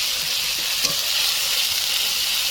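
Ginger and garlic paste sizzles steadily in hot oil for mutton curry, a dense continuous frying hiss with faint stirring scrapes, close and alone.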